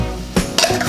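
Ground onion and tomato paste drops into a pan and gets stirred, with two bursts of clattering utensil-on-pan contact and a wet slop, close and fairly loud, with no voices.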